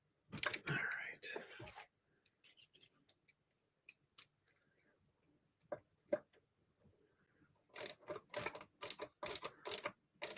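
Bolts on a Redcat Vigilante RC car are tightened with a torque driver, giving small clicking, ratcheting ticks in scattered bursts with quiet gaps between them, close up, with a voice speaking at the start.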